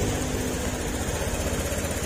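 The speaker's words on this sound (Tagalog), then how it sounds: "At ito, tahimik na yung kanyang makina." A car engine idles quietly after a valve repair, giving a steady, low continuous hum throughout with no talk.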